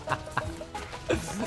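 Chicken clucking in the video game Goat Simulator 3, several short close clucks in an uneven rhythm over quiet game background.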